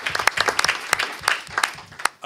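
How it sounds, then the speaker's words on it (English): Brief burst of audience applause at a school district gathering, close and lively with distinct individual claps throughout. "last round of applause for our organizations."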